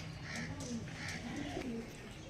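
Soft, low cooing from Madras pigeons drifts in quietly, a few muffled rolling calls against a hissy background with no clear talk.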